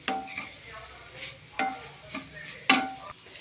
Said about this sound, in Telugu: మొత్తం కొబ్బరి మొత్తం ఫ్రై చేసుకొని ఇలాగా ఇది గోల్డెన్ బ్రౌన్ వచ్చేంత వరకు ఫ్రై చేయాలండి